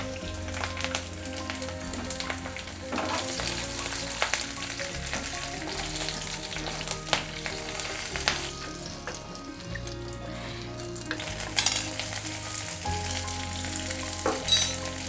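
Cumin, dry red chillies, bay leaves and green chillies fry in hot oil while being stirred, a steady close sizzle broken by occasional clinks and scrapes of the spoon against the pan.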